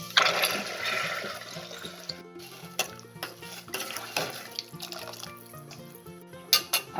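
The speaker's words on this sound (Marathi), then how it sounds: "त्यात घालू आता आपण पाणी." Water streams into a pot of sweet corn soup holding carrots and corn kernels fried in ghee, a steady splashing pour with intermittent drips and clinks, close up and with no talking.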